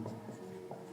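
A brief scratch of writing on a board during a Class 10 maths lesson on height and distance, forming steady, close strokes against a faint room hum.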